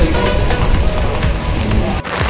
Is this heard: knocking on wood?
no